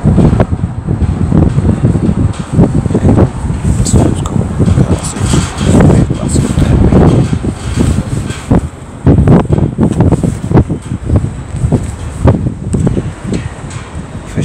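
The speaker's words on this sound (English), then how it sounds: "Sorry about the wind, there's a bit of a breeze on." Strong wind buffets the microphone continuously at a waterside fishing spot in Hull, with loud gusty rumbling and rustling that rises and falls throughout.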